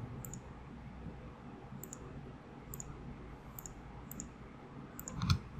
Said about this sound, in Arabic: هضغط على شيفت من الكيبورد